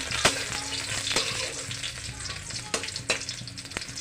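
Garlic browning in hot oil in a home kitchen before jute leaves go in, a continuous crackling sizzle close up, punctuated by several sharp clicks of a spoon against the pan.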